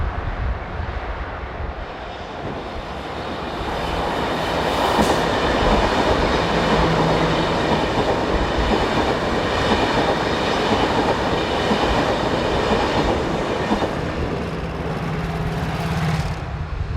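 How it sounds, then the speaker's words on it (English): A Class 470 electric unit, running north from Milano to Zurich, rolls past in a long sustained roar of wheels and traction noise, building and holding loud with faint rail clatter before easing slightly. "Class 470 unit number 470003 heads north with the 1110 from Milano to Zurich"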